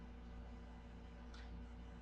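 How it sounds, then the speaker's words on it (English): A dehumidifier runs in a basement, giving a low, steady mechanical hum with a faint, even drone throughout and no voices. "That is a dehumidifier thing because I am in the basement now"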